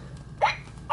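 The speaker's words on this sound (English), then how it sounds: "She's got the hiccups." A Baby Alive My Baby All Gone doll toy hiccups twice, each a short squeaky electronic blip about half a second apart, close and fairly quiet with no talking.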